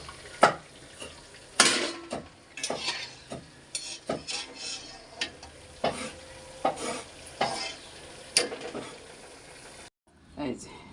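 Potato chops being lifted from hot frying oil in a pan, with intermittent sizzling, stirring and clinks of utensils against the pan, under frequent talk.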